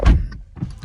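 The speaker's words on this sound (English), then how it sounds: "Let's get the door shut." A solid BMW 440i M Sport car door thumps shut up close, followed by a brief muffled rattle and a second softer knock.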